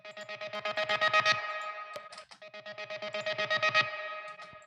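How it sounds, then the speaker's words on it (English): Heavily distorted electric guitar through an amp-sim plugin chugs in fast, rhythmic palm-muted bursts, two loud phrases separated by a short break, saturated and buzzing with no low end and no voices. "I just fired up STL Volt Botany to get any distortion."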